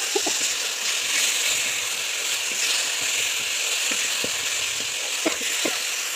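Spiced curry sizzles in a pan after a splash of water is added, a steady hiss broken by scraping, clicking stirring strokes throughout.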